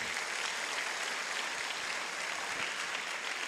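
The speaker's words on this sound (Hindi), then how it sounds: "एक जोरदार ताली उसके लिए बजाइएगा" A seminar audience in Lucknow claps loudly and continuously, a dense, even wash of applause from many hands that fills the whole stretch without pause or speech.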